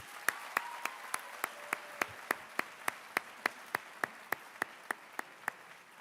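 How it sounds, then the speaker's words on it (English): At a high school athletic awards ceremony, faint, evenly spaced claps land in a steady rhythm of about three per second, sharp and distinct rather than blended into a wash of applause. "please give me one more round of applause for all of our finalists"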